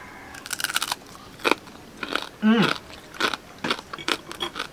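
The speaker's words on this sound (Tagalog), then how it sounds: "Tikman natin kung talagang malutong ba. Yung crispy pata pero inihaw ah." Someone bites into grilled crispy pata, a pork knuckle with crackling skin, giving loud, close crunches and chewing in irregular bursts, with a brief voiced murmur in the middle.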